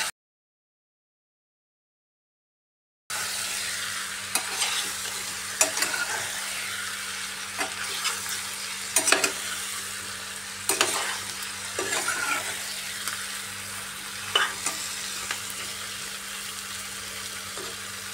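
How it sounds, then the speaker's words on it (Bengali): Chicken pieces coated in spices fry over a medium gas flame, a steady close sizzle punctuated by repeated scraping strokes of a spoon stirring the pan, starting after a few seconds of silence. "গ্যাসের আঁচটা মিডিয়ামে রেখে ভালোভাবে কষিয়ে নিতে হবে চিকেনটাকে।"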